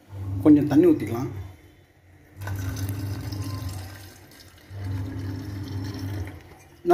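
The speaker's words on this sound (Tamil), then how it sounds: "கொஞ்சம் தண்ணி ஊற்றிக்கலாம்." Water pours into a mixer jar for a crab kurma masala in two short bursts of close, trickling gurgle, separated by quiet pauses.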